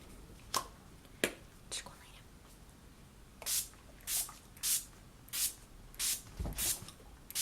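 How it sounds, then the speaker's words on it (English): Urban Decay All Nighter long-lasting makeup setting spray misted in a rapid series of about eight short hissing spritzes, preceded by a few softer sprays, close and crisp. "I'm just going to be using my Urban Decay All Nighter Long Lasting Makeup Setting Spray"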